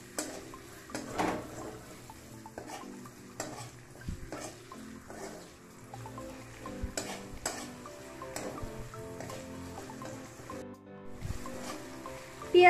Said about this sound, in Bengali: পেঁয়াজটাকেও একটু ফ্রাই করে নেব